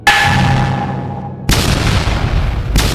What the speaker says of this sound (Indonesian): Ledakan demi ledakan terjadi hampir setiap detik